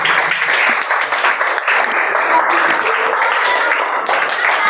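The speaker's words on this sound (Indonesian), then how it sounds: "Kasih aplaus untuk kelompoknya." A classroom audience applauds a presenting group during a teaching performance exam in Batam, with dense, steady clapping that stays loud and even throughout.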